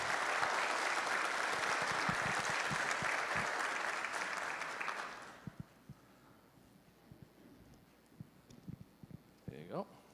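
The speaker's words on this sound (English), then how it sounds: "Yep, you can give her a round of applause." A church congregation claps for a graduate at a Sunday service, loud sustained applause that fades out about halfway through, leaving a quiet room with scattered small knocks and rustles.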